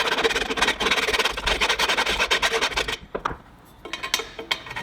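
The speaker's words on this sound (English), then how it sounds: "so I've got a rat tail file" Rat tail file rasping at the edges of a bolt hole in a metal table saw leg, with quick rhythmic back-and-forth strokes, close and fairly loud, pausing briefly before a few scattered final strokes.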